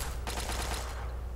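Automated gun turrets in Fallout 3 fire a rapid burst of gunfire that lasts under a second, loud and dense, then drop away to a low background hum with no voices.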